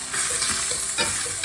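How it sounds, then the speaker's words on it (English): Impossible Burger plant-based meat sizzles steadily in a cast iron skillet beside vegetables while being mashed down, a close, continuous frying hiss with brief scraping stirs. "I'm just going to put the Impossible Burger in there, and I'm going to mash it down"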